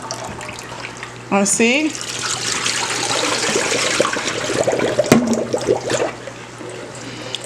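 Tap water runs and splashes as quinoa is rinsed for a lamb stew, a steady near hiss under a voice that speaks briefly.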